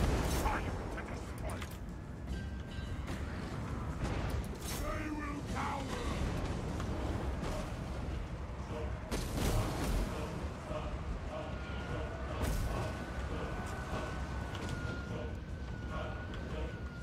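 Guns and artillery firing in a Total War: Warhammer II battle with Chaos Dwarfs, a steady din of booming shots and battle noise under someone talking throughout.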